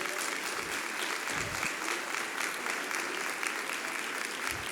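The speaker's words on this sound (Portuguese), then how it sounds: "pode aplaudir o Senhor" A church congregation applauding during a prayer service, a continuous even patter of many hands, somewhat distant and fairly quiet, with faint voices underneath.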